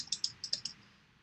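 Six quick, light key clicks on a computer keyboard arrive in an uneven rhythm, close and fairly quiet, then fade into soft room hiss.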